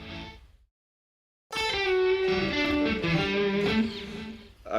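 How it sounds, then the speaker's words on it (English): Electric guitar through a Katana amp with a little reverb, playing a short distorted phrase of ringing notes after a brief silence, loud and close. "I have a little reverb on the katana already."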